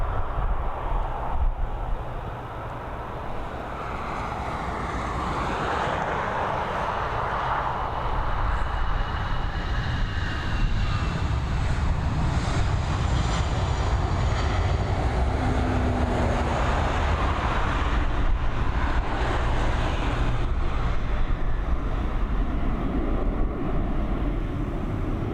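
An airliner departing Dublin Airport for Munich roars steadily throughout, its broad jet noise heard from a distance with no talk.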